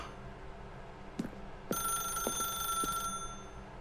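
A telephone bell rings in The Stanley Parable video game, a loud bright ring starting partway through over a quiet hum, with a couple of soft knocks before and after.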